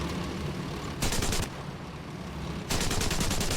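Tank machine guns firing in War Thunder, two distinct loud rapid bursts, each about half a second to a second long, separated by a pause filled with steady engine rumble.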